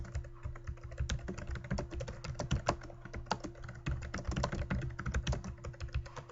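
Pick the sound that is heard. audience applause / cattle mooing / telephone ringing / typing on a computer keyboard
typing on a computer keyboard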